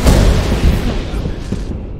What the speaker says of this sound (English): My dude, you blew our ship up as well.